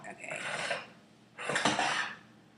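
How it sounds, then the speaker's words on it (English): Rice being stirred in a pot, two scraping, rustling strokes close by with a short gap between them. "Give it a nice stir."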